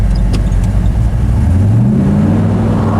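A car engine idles low and steady, then rises in pitch as the car creeps forward a few inches at the 2023 Hot Rod Power Tour at Atlanta Motor Speedway, loud and close against a noisy crowd backdrop.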